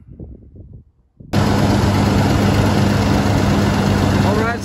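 An Isuzu 3.2 engine fires up and settles into a loud, steady idle after an oil cooler repair, following a moment of quiet and faint background talk.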